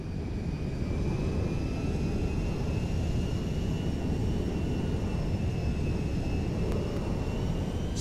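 Steady, loud roar of a cargo jet's engines in Grand Theft Auto V, a continuous broadband rumble with a faint high whine holding constant throughout.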